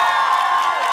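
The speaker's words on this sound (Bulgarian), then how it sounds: "Аплодисменти за двамата!" A crowd at a 2014 concert roars and cheers in a sustained, loud wash of voices and whistling, with no distinct claps standing out.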